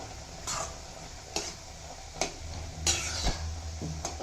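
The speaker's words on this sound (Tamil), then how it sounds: "இப்போது இது எண்ணெய் பிரிஞ்சு வர வரைக்கும் நல்லா கொதிக்கட்டும்." A pan of bitter orange curry (narthangai kuzhambu) bubbling and sizzling steadily, with occasional sharp taps from a spoon at regular intervals, close up.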